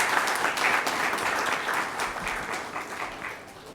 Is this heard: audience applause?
yes